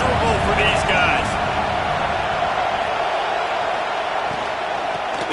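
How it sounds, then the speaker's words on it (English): Crowd noise in a college football video game, a loud sustained roar of a stadium crowd with faint chants and a voice talking over it. "This crowd going to try to make life miserable for these guys."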